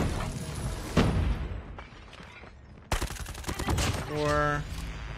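Bursts of rapid PP Bizon submachine-gun fire in a first-person shooter video game, sharp automatic volleys separated by brief pauses, with game effects and a voice partly mixed in.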